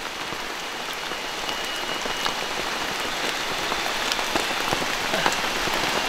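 Rain falls steadily in a forest, a dense hiss of drops hitting leaves and surfaces. It is close and continuous throughout, with a few sharper drips standing out and no talking.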